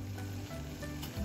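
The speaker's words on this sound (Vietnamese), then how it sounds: "Nước đã sôi" A pot of water is at a rolling boil in a home kitchen, giving a steady, close bubbling and hissing with a low continuous hum beneath it.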